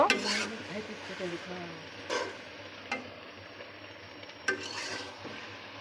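Mango pickle with white vinegar is stirred slowly in a pot, a few distinct scraping scoops of the spoon against the metal separated by pauses, over a quiet low hum and faint background sizzle.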